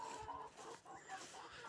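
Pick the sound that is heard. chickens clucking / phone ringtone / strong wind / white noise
chickens clucking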